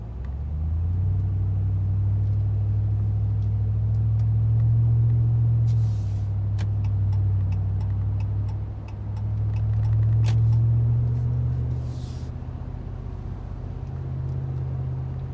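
A 2016 Ram 2500 pickup truck cruising with its transmission in tow haul mode, a steady loud low engine and road rumble heard from inside the cab, rising and easing with a few faint clicks above it.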